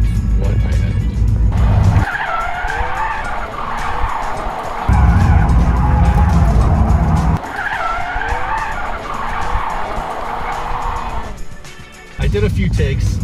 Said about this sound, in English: I did a few takes with the Camaro slinging it sideways, coming to a stop